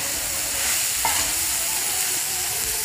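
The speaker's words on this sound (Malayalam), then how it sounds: "ആദ്യം നമ്മൾ ഇഞ്ചിയാണ് വറുത്തെടുക്കുന്നത്." Ginger frying in coconut oil while a utensil stirs it through the pan, producing a steady hissing sizzle with soft scraping movements close by and no speech.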